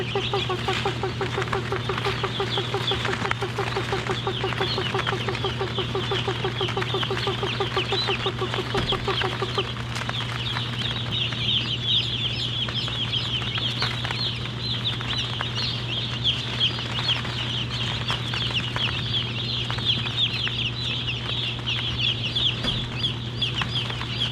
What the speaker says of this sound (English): Chickens, chickens, chickens. Come on.